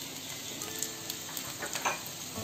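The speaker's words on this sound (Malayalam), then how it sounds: "നന്നായിട്ട് ഫ്രൈ ആയിക്കൊണ്ടിരിക്കുന്നുണ്ട്, ശരിയായിട്ട്." Chicken fries in a pan as its water cooks off, giving a steady, low sizzle with scattered crackles and pops for a couple of seconds.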